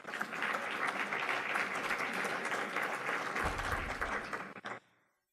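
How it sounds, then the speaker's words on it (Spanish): Audience applause at an academic lecture session on health service management, a dense steady wash of clapping that fills the room for about four seconds and then stops abruptly. "Un aplauso para ustedes."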